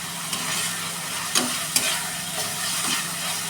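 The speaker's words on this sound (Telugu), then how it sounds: "ఇలా పచ్చివాసన పోయే వరకు అల్లం వెల్లుల్లి పేస్ట్ కూడా ఫ్రై చేయాలి." Ginger-garlic paste fries in hot oil for a hotel-style chicken fry, making a loud, dense, continuous sizzle with a few sharp stirring scrapes cutting through it.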